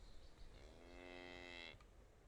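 A single sustained bovine moo from the cow-like creatures of the video game Geneforge swells and holds for about a second, then cuts off, standing alone over a low background hum.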